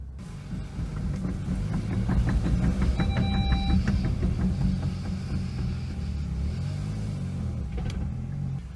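Bentley Continental GT rolling slowly out of a garage, its engine a steady, deep, close rumble that swells slightly and holds, with a brief faint electronic chime partway through.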